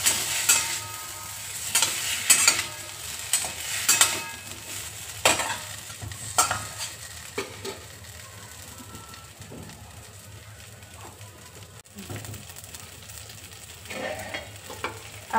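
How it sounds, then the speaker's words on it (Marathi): Ground ginger-garlic masala and brinjal sauté in hot oil, with a steady sizzle and repeated scraping strokes of stirring early on, then a quieter sizzle; faint pigeon coos sound in the background. "अद्रक लसूण वाटलेला, पहिल्यांदा वाटलेला मसाला आपण घालून घेतला आहे वांग्या. तेल सुटेपर्यंत परतून घेऊया."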